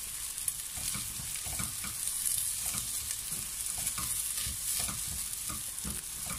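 Carrot and celery hiss in a cooking pot for an elbow macaroni soup as a spoon works through them, producing a steady close sizzle with soft rhythmic scraping strokes and no talking.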